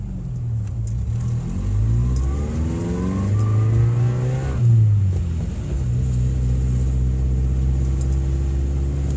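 A car driving along a snowy winter road in Vermont: a loud, steady engine drone with rising and falling revs as it accelerates, plus road and tire rumble throughout and no voices.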